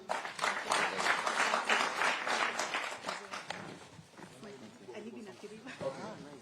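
Crowd applause at a Nairobi City County gathering for people living with disabilities, a dense burst of clapping for several seconds that thins out, with a voice speaking over it toward the end.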